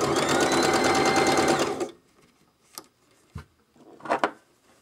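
A sewing machine runs a fast, dense burst of decorative stitching over a first seam on a reversible jacket, then stops, leaving a few scattered handling clicks and taps in near silence.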